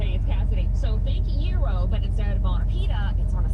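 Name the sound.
car engine starting and idling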